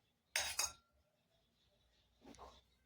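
A spoon scrapes and clinks across a steel plate while spreading ghee for a fasting sweet, two quick bursts near the start and a softer scrape near the end, with no talking.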